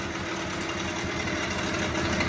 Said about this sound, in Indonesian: Halus dengan suara knalpot khas 15 PK kotak.